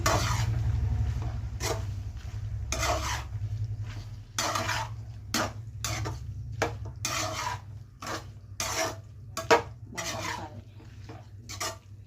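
A spoon stirs boti curry with tomatoes in a metal pot, making repeated scraping and rasping strokes in a steady rhythm over a low continuous hum, close by.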